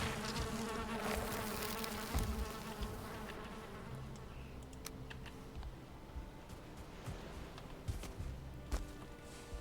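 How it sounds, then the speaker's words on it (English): Bees buzzing in the Black Forest of the video game Valheim: a close, persistent insect drone with a few scattered clicks and taps, fading slightly after the opening seconds. "Bees. Bees."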